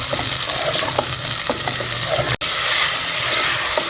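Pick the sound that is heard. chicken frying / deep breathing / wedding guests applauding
chicken frying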